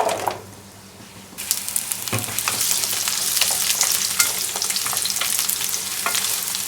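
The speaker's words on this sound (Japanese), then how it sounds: "じゃあ別のフライパンでじゃがいもと人参を炒めましょう。" Potatoes and carrots hit a hot frying pan after a brief quiet moment, bursting into a loud, steady sizzle with repeated clinks and scrapes of stirring, close up and with no talking.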